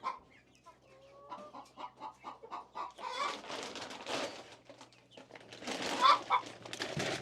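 Chickens clucking and chattering as they file out of a freshly opened coop, a steady run of soft clucks building into a busier, overlapping flock noise with a few sharper calls near the end.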